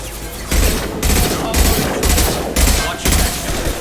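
Rapid automatic gunfire in the sci-fi shooter Mass Effect 2, loud bursts of roughly half a second repeating about six times in a steady rhythm, with brief gaps between volleys.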